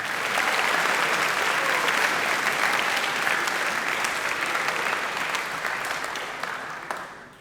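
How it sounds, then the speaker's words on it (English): A large crowd at a high school assembly gives a long round of applause for returning and new teachers, dense and loud at first, then thinning and tapering off toward the end. "please, a big round of applause for all the returning and all the new teachers"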